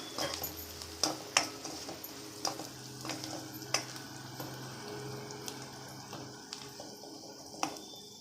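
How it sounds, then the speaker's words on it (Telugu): Salted onions fry in a pan under a soft steady sizzle, punctuated by repeated sharp clinks and scrapes of a spatula stirring, close and fairly quiet. "ఉల్లిపాయలు వేగిపోయాయండి."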